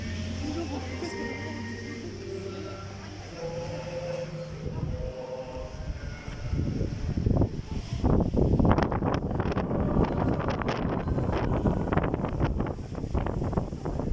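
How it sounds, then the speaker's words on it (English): Strong wind buffets the microphone outdoors at the Medjugorje sanctuary on Easter Sunday morning, a steady rumbling roar that grows heavier and gustier, with voices talking over it. "As you can see, a lot of wind, still people are out."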